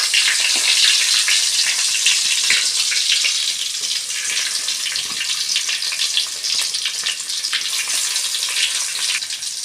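Steady, loud sizzling and crackling of garlic frying in hot oil, continuous throughout with no talking.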